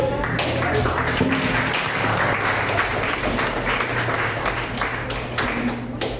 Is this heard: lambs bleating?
no